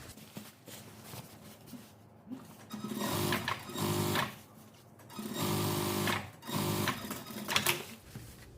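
A sewing machine stitches a windbreaker jacket in several close bursts of fast mechanical whirring, each lasting about a second, separated by brief quiet pauses.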